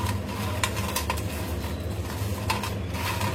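Fried rice flour chips with curry leaves being stirred in a pan, a close, continuous clatter and scrape of utensil against metal with light rustling, without speech.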